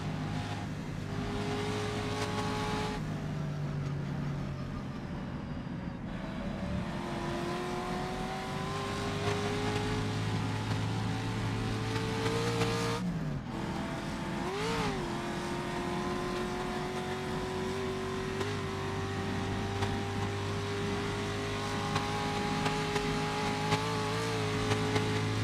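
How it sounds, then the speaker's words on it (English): A racing car's engine revs hard to the red line during the Isle of Man historic time trial, a loud, sustained near wail with pitch sweeping up and dropping as the car slows to turn. "The engine just hitting the red line"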